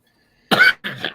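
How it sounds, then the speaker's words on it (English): Two harsh coughs close together after a moment of silence, the first louder and the second slightly weaker. "This cough so bad. It's annoying."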